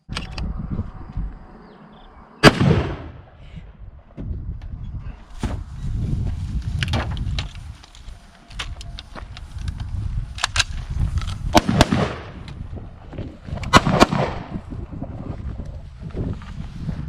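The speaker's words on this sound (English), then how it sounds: "So that was the live firing test." Handgun shots ring out in a live-fire test with a pistol drawn from a Southwest Holsters Rattler holster, several sharp cracks at irregular intervals over outdoor wind noise and light movement.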